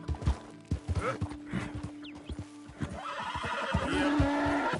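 A horse in a PS4 video game neighs and whinnies over a clip-clop of hooves, with snorts and game sounds layered in; fairly close and clear, no talking.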